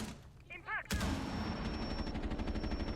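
Gunfire in Rainbow Six Siege: a brief voice, then a sharp loud shot that opens into sustained rapid automatic fire with a steady ringing tone beneath it, continuing to the end.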